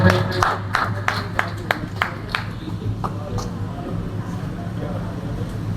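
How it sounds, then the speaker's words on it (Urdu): Audience clapping at a ceremony honouring a poet in Karachi, a scattered round of applause with sharp claps early that thins and fades beneath a steady low hum. "آپ لوگوں کی بھرپور تالیوں میں"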